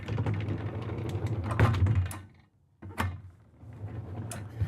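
A privacy door in the bedroom of a 2025 Newmar Essex 4569 motorhome is slid and operated, giving a rolling, creaking mechanical rattle that pauses briefly and then resumes with a couple of clicks, close by and without talk.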